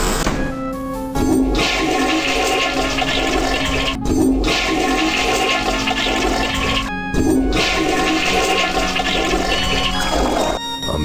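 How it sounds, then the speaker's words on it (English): A toilet flushing repeatedly in the point-and-click horror game I Have No Mouth and I Must Scream, three loud rushing flushes in a row separated by brief gaps, with no talk. "Go to the restroom and flush 3 times."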